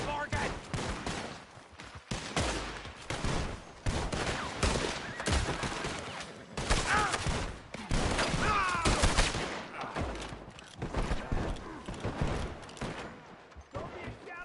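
Gunfire from a shootout in the video game Red Dead Redemption 2, with sharp shots and volleys crackling throughout, closely mixed with shouting voices and tense dialogue.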